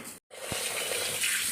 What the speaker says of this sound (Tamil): இதை நல்லா கழுவிட்டு உப்பு போட்டு கழுவிட்டு இல்லைங்க உப்பு போடுவோம்